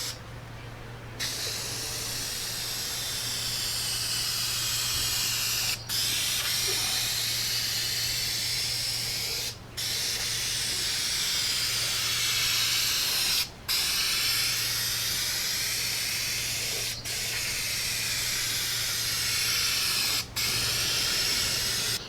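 Flat black spray paint hisses from an aerosol can in light coats onto refurbished Jeep Cherokee XJ side moldings and rockers, a series of steady bursts several seconds long separated by short pauses.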